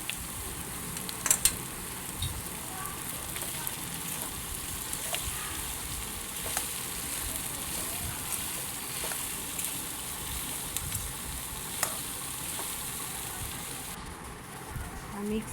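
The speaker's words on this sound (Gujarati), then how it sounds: "હવે બધી વસ્તુને સારી રીતે મિક્સ કરો." Soaked poha being stirred and fried in a pan for batata poha gives a faint, continuous sizzle, with occasional light scrapes and clicks of a spoon against the pan.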